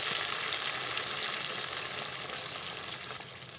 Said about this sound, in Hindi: इसमें हम जो मसाले ब्लेंडर किए हैं वो सब डालेंगे